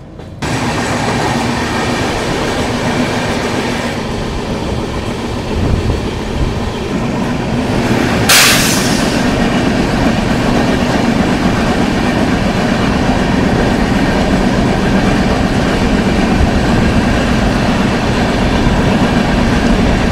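A train on the Kumbh Express from Howrah to Haridwar rolls steadily along the rails past Bardhaman Junction, a continuous loud rumble with faint rhythmic clatter and a brief sharp screech midway, no voices.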